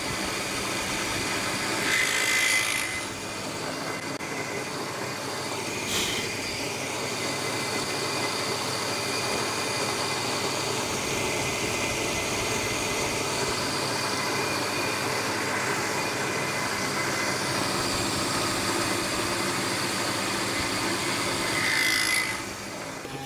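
A mortising machine cutting mortises in a wooden workpiece runs steadily and alone for the whole stretch, a continuous droning mechanical hum with a couple of brief sharper bursts near the start and end.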